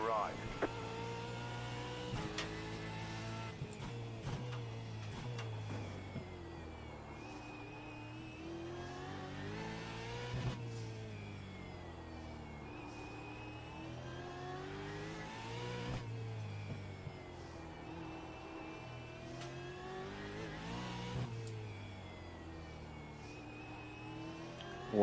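Onboard a race car lapping the Adelaide street course in practice, the engine repeatedly winds up through the gears and drops back under braking in steady cycles. It is loud and close throughout.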